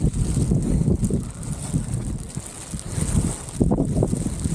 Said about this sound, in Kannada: ಫುಲ್ ಅದು ಗಾಳಿ ಬೀಸ್ತಿದೆ.